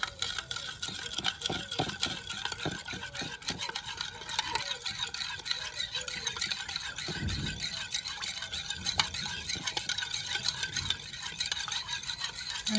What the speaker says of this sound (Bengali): জলটা ভালোভাবে গুলাই নেব।